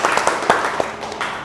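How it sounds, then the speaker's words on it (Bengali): An audience at a public-speaking practice session gives a short burst of scattered hand claps, a handful of sharp, uneven slaps close by that fade into a loose patter. "তার জন্য একটা হাততালি"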